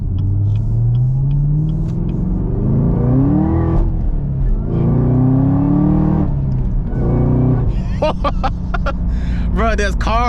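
A Camaro ZL1 with a six-speed manual pulls hard from inside the cabin, its deep engine note rising through the revs, dropping at gear changes, then climbing again, with someone talking over part of it.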